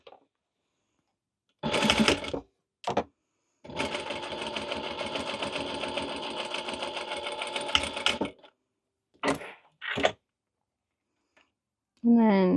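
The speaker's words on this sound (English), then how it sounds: "we are going to top stitch across this right here." Sewing machine top stitching across fabric: a short burst, then one long steady run of rapid stitching, followed by a few brief bursts, fairly close and alone.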